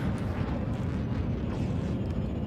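Enemy Cobra Mk III ships fire on the player's ship in Elite Dangerous; dense low rumbling blasts and impacts rolling on continuously for a few seconds, fairly loud, with no talk.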